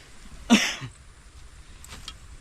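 One short, sharp cough sounds close by, with a softer follow-up, set outdoors beside a muddy rice-field dike, with faint background noise.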